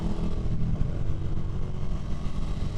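A 2024 KTM Duke motorcycle with a shift cam engine drones steadily and loudly up close, its engine note held at a constant pitch throughout without any talking over it.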